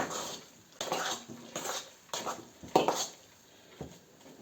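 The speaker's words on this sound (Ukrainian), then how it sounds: "І розмішуємо файно." A spoon stirs potato filling for varenyky in a bowl, with a series of close, moderately soft scraping and clinking strokes in an uneven rhythm.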